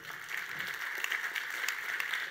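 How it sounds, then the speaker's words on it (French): Applause from a seminar audience during a business strategy and SEO talk: a steady, fairly faint wash of many hands clapping, with scattered sharper claps, continuing throughout. "On l'applaudit."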